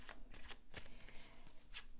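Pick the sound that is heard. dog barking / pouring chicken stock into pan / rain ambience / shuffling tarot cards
shuffling tarot cards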